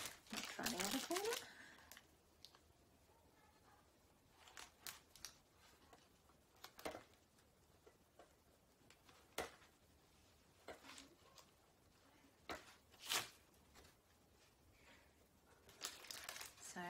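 Protective plastic film being peeled off a face shield: several brief crinkly tearing and crackling bursts, close and fairly quiet, spaced irregularly with near silence between them.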